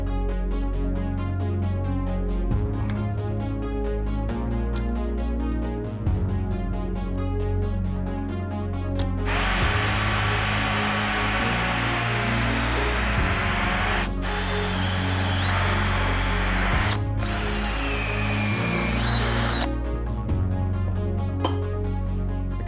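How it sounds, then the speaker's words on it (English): A power drill bores holes to remove rubber from a Toyota Celica idler arm, giving a loud continuous whine that changes pitch with load, broken by brief stops and restarts, with no talking. "So I'll basically just be drilling a bunch of different holes."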